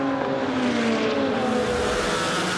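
A green and white Norma prototype race car at Zandvoort screams past at high revs, its loud, continuous engine note shifting in pitch as it races by, with no voices heard.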